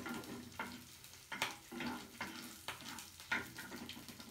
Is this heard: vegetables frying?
yes